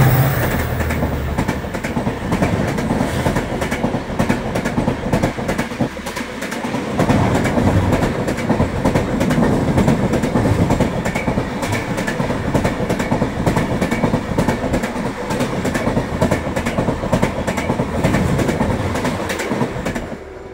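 An Indian Railways express between Bangalore and Satara passes another train, producing a loud continuous rumble with rapid clickety-clack beats and wind rush heard from on board throughout.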